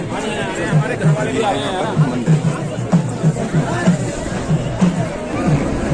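A crowd of pilgrims and sadhus gathered at Kedarnath temple makes a steady murmur of babble and chatter, heard under someone talking close by throughout.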